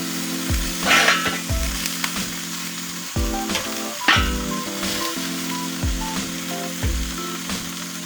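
Chicken breasts sizzle on a grill over hot coals, a steady crackling fry broken by repeated soft scrapes and clinks as the pieces are turned, close and alone with no talking.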